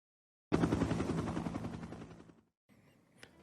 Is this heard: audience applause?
no